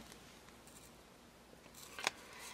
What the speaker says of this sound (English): you're going to go through with your scissors, and you're just going to be cutting right around that edge